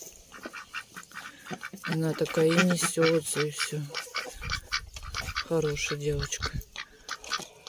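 A sick domestic duck that keeps falling on its side and cannot walk gives a few harsh quacks, close by and mixed under someone talking in Russian.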